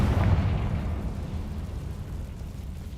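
A Confringo spell explodes in a Harry Potter video game, a loud booming blast with a deep rumble that peaks early and then rolls on steadily for a few seconds with no voices.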